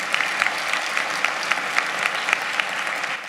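Applause at a high school graduation ceremony, a dense and steady round of clapping from a large crowd with periodic louder claps rising above it, sustained throughout.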